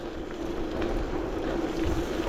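Steady wind rushing past a rider on a gravel bike along a countryside path with a favorable tailwind, a continuous low buffeting roar with a faint hum underneath and no speech.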